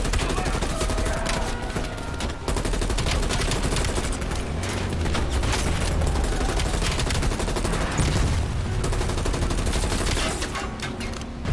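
Dense, continuous gunfire in the Call of Duty Cold War campaign, loud and unbroken, with rapid overlapping shots forming a heavy fusillade for the whole stretch.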